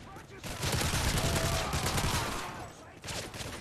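Rapid automatic gunfire rattles in Modern Warfare 3 Survival, a dense, loud, continuous volley of shots lasting a few seconds, with a brief pause and a short second burst near the end.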